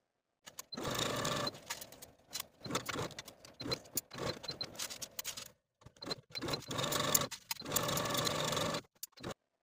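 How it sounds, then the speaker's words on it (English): Sewing machine stitching binding onto a garment neckline in several bursts, a steady mechanical whir that starts and stops with short pauses between runs, close and fairly loud. "take it to your sewing machine and attach your binding to the neckline"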